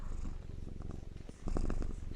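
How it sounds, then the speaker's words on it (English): A cat purrs very close, a steady low throaty rumble pulsing with each breath and swelling louder toward the end, with no talking over it. "She also pays me by purring."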